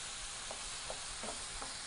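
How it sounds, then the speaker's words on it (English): Shrimp for New Orleans BBQ shrimp being stirred around a skillet, giving a soft, steady sizzle with a few faint scraping strokes at intervals, quiet and close. "So we just want to move them around the pan until they all start to turn pink."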